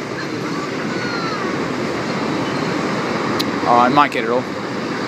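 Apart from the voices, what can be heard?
short freight train passing on rails at Cabramatta station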